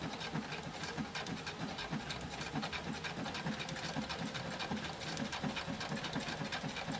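A sewing machine stitches a gnome applique in a steady, fast, even chatter of needle strokes that runs without a break, close and moderately loud.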